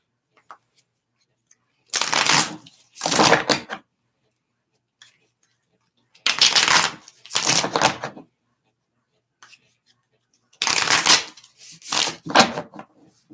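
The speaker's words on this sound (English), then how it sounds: "Mary, I'm shuffling for you, my dear." Cards are shuffled in three pairs of quick riffling bursts, each burst a brisk rustle, separated by stretches of silence.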